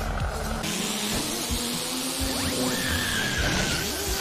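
A racing-game car in RVA America accelerates, its engine note sweeping upward in steady rising tones over constant hissing road and motor noise, fairly loud and continuous throughout.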